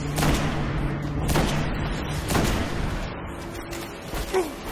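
Gunfire sounds in the Destiny video game, with several sharp, loud shots spaced about a second apart over a busy rumbling background.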